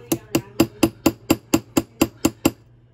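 Eleven sharp metallic taps of a hammer's flat face flattening a metal rivet, in a steady, even rhythm, close up and ringing briefly after each strike.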